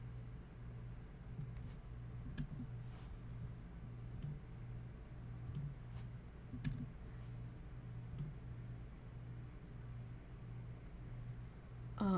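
Quiet, steady tapping on a computer keyboard, typing and pasting links into a chat window, continuing for several seconds over a low electrical hum.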